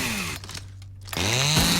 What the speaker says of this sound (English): Now, you'll think a chainsaw, right? You can't bring this into stealth, right? It's loud, everybody can hear it.